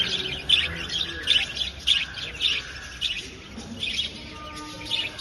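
Several small birds in Pondicherry give short, sharp chirps in a loose, lively rhythm, close and fairly clear, with faint background noise beneath.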